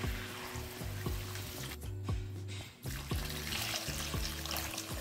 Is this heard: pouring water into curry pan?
yes